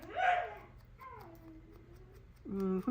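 A dog whimpers at another dog indoors, giving a few close, thin whining glides that rise and fall, with a brief louder whine at the start and another at the end.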